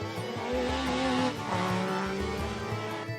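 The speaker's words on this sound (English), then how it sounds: "Large numbers turn out to see the cars flying along these scenic stages." Rally cars race flat out along scenic tarmac stages in Donegal, engines revving loud and close with a passing tyre squeal, the sound swelling and fading as cars sweep by without talk.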